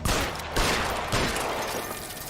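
Rapid gunfire at blocks of ice in the video game L.A. Noire, a dense, loud, steady run of shots with sharper bursts near the start and middle, and no voices.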